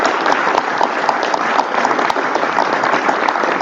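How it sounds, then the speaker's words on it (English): Steady, dense applause from an audience at a county cherry pie debate event, honoring a county commissioner, a continuous even wash of clapping from many hands. "And now you may clap for the county commissioner."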